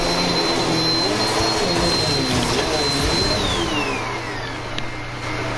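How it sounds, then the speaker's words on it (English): A vacuum cleaner runs with a steady, loud whine and roar throughout, holding a constant tone that dips slightly near the end. "Is that vacuum cleaner solid enough?"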